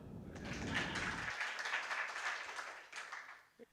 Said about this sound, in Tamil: கைதட்டுங்க சார்